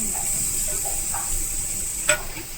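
Chopped onion and tomato fry in a pan, giving a moderate continuous sizzle with a few soft stirring scrapes and one sharp clink near the end; no talking.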